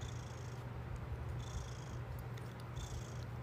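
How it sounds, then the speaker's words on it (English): A cat purrs close up, a low continuous rumbling hum that pulses gently with each breath, with a faint high hiss in the background. "Can you guys hear him purring?"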